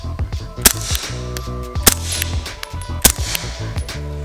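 Three sharp, close 9mm pistol shots from a CZ P07 fitted with a Tyrant 45 suppressor crack out at an even pace, each a muffled pop with a short ringing tail.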